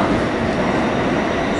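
A Kintetsu train at Osaka Namba station, a dense, loud roar of wheels and carriage rumble heard close by, with a faint rhythmic clatter throughout.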